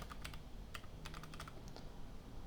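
Quick, light keystrokes on a computer keyboard typing a short word into a software search field, a brief burst of soft clicks over a quiet room hum.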